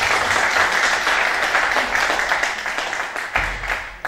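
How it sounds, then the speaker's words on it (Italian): Applause at an Italian press conference for a journalism prize, a steady roomful of clapping that holds for about four seconds, then thins and swells briefly again near the end with a low thump. "Un applauso"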